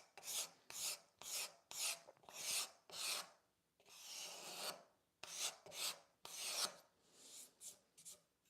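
A hand rasp shaping a wooden furniture leg held in a vise, with about a dozen close, rhythmic push strokes separated by brief pauses, faint and alone.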